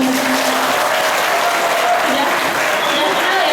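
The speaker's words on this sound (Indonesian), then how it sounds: "Tepuk tangan buat Bunda" Audience at an event clapping to welcome a guest speaker, a steady, full wash of applause throughout with faint voices mixed in.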